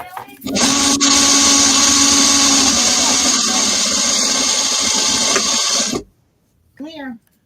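An electric sewing machine runs with a steady, loud motor whir for about five seconds, then cuts off, followed by a brief voice.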